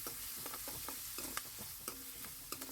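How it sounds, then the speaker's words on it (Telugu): Onions, chillies and curry leaves fry in a pan for a flat bean curry, giving a steady soft sizzle broken by repeated scraping strokes of a spoon stirring, close and fairly quiet, with no voices. "కరివేపాకు వేసుకొని ఒక ఫైవ్ మినిట్స్ వరకు అయితే ఫ్రై చేసుకోవాలి"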